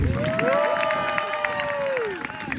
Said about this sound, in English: how about a huge cheer for the late Hessian?